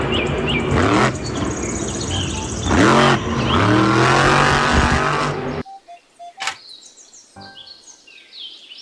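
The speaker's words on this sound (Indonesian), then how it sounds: "Mobil truk monster." A monster truck engine revs loudly in a toy video, with rising and falling vroom-like surges. It stops abruptly and gives way to quieter music and sound effects.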